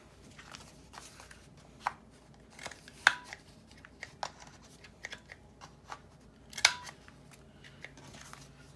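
Scissors snipping through fabric strips for crafting journal cards, a series of short crisp cuts at irregular intervals, close and fairly quiet, with no voices.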